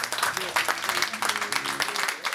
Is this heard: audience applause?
yes